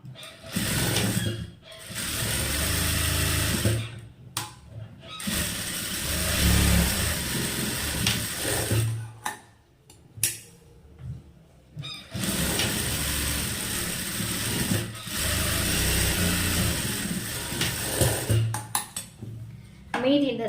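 Tailor's sewing machine stitching a garment seam, loud bursts of rapid mechanical whirring separated by short pauses, with a voice speaking between runs.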